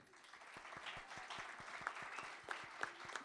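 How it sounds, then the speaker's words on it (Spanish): An audience at a panel debate applauds with steady, dense clapping that sounds fairly distant and faint, mixed with a murmur of voices. "les pido un aplauso"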